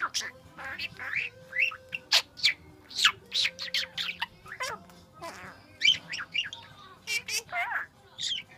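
Pet cockatiels chirp and tweet in rapid bright bursts, close and fairly loud, with a person's voice talking softly among the calls.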